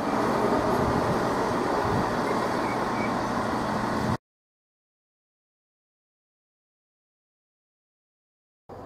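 A Mark 3 passenger train set rolls through Needham Market station toward Norwich, a loud steady rumble of wheels and carriages for about four seconds before the sound cuts out abruptly.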